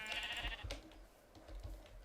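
Sheep in the video game Minecraft bleat in a short game-sound call, a moderately faint single bleat followed by quieter low thumps and background game noise.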